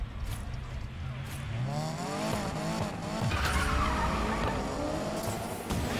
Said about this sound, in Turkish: Sesini dinleyin arabanın sesini.